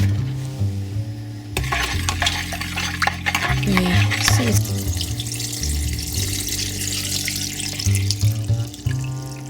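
A spoon stirring salt into pepper brine in a jar, sloshing liquid and repeated scraping clinks, close and steady over background music.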